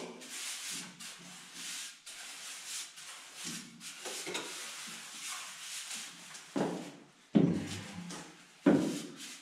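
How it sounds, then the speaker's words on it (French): Wet screed mix is spread and worked with a trowel for an Italian-style walk-in shower base, giving continuous close scraping and rubbing strokes, with a few heavier thumps of the tool toward the end. "Tu étales ton mélange."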